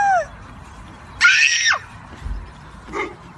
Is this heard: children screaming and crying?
yes